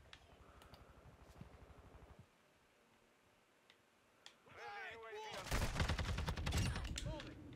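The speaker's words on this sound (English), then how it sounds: "Oh, that's a sentry gun, isn't it?" Sentry gun firing in Call of Duty Modern Warfare 2 multiplayer, a fast stream of rattling shots that stops abruptly, then after a pause louder gunfire and effects erupt.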